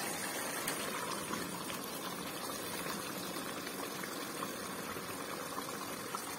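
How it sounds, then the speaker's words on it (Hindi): Chana dal goes into a frying tomato masala for a hotel-style dry dal fry, and a steady loud sizzle and bubbling hiss carries on throughout with no speech. "अब मैं इसके अंदर चने की दाल डाल दूंगी"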